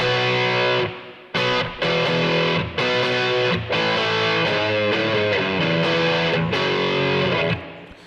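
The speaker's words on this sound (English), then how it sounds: "And the last overdrive that I have, distortion, is the MXR Prime Distortion." An electric guitar played through an MXR Prime Distortion pedal rings out loud and sustained, heavily distorted chords struck in a steady sequence with brief gaps between changes, no talking.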